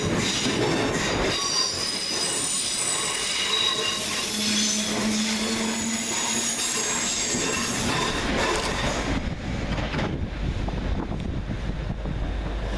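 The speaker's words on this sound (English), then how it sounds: "317508 and 317510, departing with the 1820 Greater Anglia service from Hertford East to London" Two Class 317 electric units, 317508 and 317510, pull out of Hackney Downs station on a Greater Anglia service, with steady rail rumble, squealing wheels and a high electric whine, while wind buffets the microphone; the noise eases toward the end.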